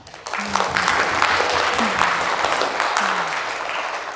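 An audience at a humanities lecture on reading novels applauds a professor, a steady, full round of clapping from a seated crowd with faint voices underneath.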